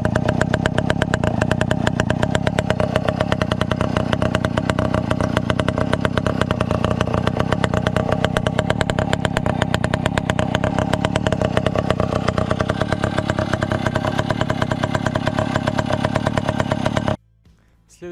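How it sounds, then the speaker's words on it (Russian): A 1988 Delta RMZ 2.124 moped's small two-stroke engine runs loud and close with a fast, steady buzzing putter, then cuts off abruptly at the very end. "Ну а сейчас вы увидите первый запуск мопеда после проведения техобслуживания."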